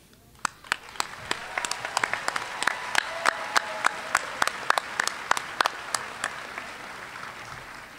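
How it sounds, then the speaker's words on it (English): An audience at a university commencement ceremony applauds, with a steady wash of clapping and sharp individual claps standing out, swelling and then tapering off. "I congratulate and applaud you."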